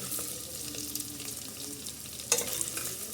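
Paneer cubes frying in a pan to a light golden brown, a close, steady crackling sizzle with a few sharper spits and one louder pop-like burst partway through, no voices.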